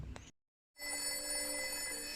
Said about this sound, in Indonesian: tiba-tiba telepon berdering kembali